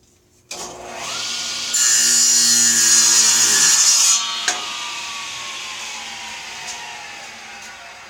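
A power saw spins up and rips lengthwise through a board in a workshop with no dust collection running, a loud steady whine and cutting rasp for a few seconds before the blade winds down slowly.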